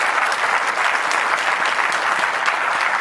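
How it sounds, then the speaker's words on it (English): Steady, dense audience applause after a conference panel discussion on cancer genomics, loud and continuous throughout with no voices standing out. "Everyone give the panel a big round of applause."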